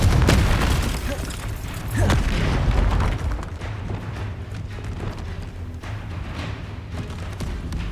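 In the Hogwarts Legacy video game, a Confringo blasting spell explodes in a loud, sustained boom with a rumbling, crackling tail that slowly fades under continued game noise.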